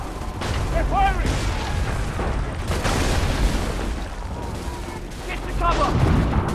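Cannon and musket volley in Assassin's Creed III, heavy booming blasts and crackling shots spread out over a dense rumbling battle din, with shouted voices mixed in.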